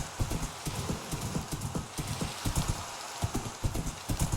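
A horse in Minecraft trotting in the rain, rapid rhythmic clip-clop hoofbeats repeating steadily over a soft hiss of rainfall, close and clear with no speech.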